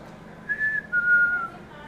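Eerie whistling inside a haunted hotel, two clear rising-and-steady whistled tones in quick succession, fairly close and isolated over a faint hum.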